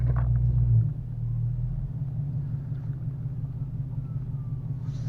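A Dodge Challenger car drives along with a deep, steady engine rumble heard from inside the cabin. A louder surge at the start settles into a constant low drone, with no talking.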